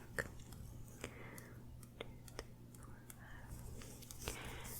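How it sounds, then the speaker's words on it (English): Fingertips tap softly against a face during close-up ASMR face measuring: a series of faint, sharp clicks arrives at an irregular pace, with quiet breathy whispering underneath. "I'm going to be counting with my fingertips, so that's the sound you're hearing."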